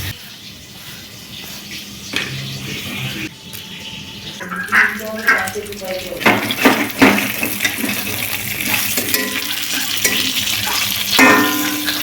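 Pieces of large magur catfish fry in hot oil in a wok with the gas switched off. A steady sizzle carries bursts of spattering and stirring, and there is a little talk underneath.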